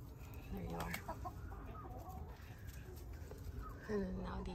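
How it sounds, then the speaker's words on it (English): A mixed flock of chickens clucks and squawks continuously nearby as two flocks are combined on a farm, with a few louder calls rising above the steady farmyard bustle and a person speaking now and then. "I'm thinking there's gonna be a lot of squabbles today. All these chickens."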